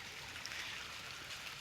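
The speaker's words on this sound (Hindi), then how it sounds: "केले के पत्तों में पानी की छींटे" Light drizzle patters on banana leaves outdoors, a soft, steady hiss of fine drops, faint and continuous with no voices.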